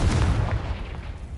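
Confringo spell explosion in Hogwarts Legacy: a short, deep, booming blast with a low rumble that decays quickly, loud and close.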